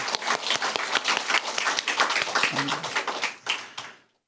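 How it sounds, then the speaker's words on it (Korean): A church congregation claps in praise during a service, a dense run of rapid hand claps filling the room before stopping abruptly. "하나님께 영광의 박수 올려드리겠습니다."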